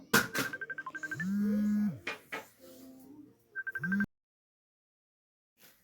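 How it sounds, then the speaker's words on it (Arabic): A telephone ringing indoors during a snowy day at home, with repeated electronic ring bursts in a steady pulsing rhythm, mixed with louder tonal chimes, before the sound cuts to silence. "انا اسفه جالي تليفون"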